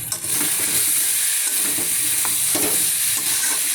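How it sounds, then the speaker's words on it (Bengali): A curry sizzles steadily in a hot pan after cumin powder is added, with scraping stirring strokes close up over loud, constant frying and no voices. "কষার মধ্যে একটু দিয়ে দিলাম জিরের গুঁড়ো"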